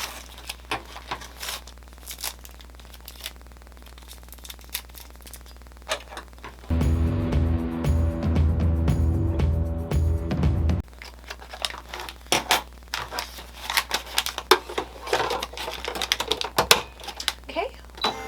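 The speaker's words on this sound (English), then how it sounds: "our next step is to trim away all of this fabric here" Fabric being trimmed away from an in-the-hoop embroidered play-food waffle, heard as soft crinkly snips and clicks around a steady mechanical hum in the middle, with quiet talk nearby.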